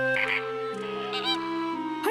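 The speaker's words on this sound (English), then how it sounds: "Flamingos!" Cartoon flamingos honk in a loud, close burst of nasal calls, stacked over sustained musical tones.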